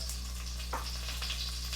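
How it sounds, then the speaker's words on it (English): Steady sizzling of food frying in a pan while cooking mole amarillo de Oaxaca, a constant crackling hiss with a low hum underneath and a few brief clicks. "You can hear that, you know, that kind of frying over there"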